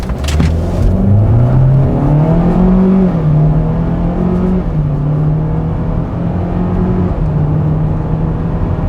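A GMC Terrain with the Ecotec 1.5-liter turbo engine accelerates hard from 0 to 60 mph, its engine note climbing steadily through several rising gear pulls, loud and close with no talk over it.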